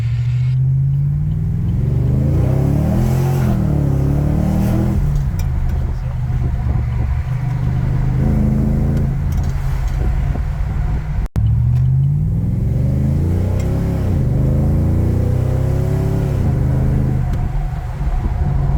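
Cammed LS1 car with a built automatic accelerating hard: a loud, close engine climbs in pitch through each gear, drops quickly at each shift, then climbs again, with voices talking over it.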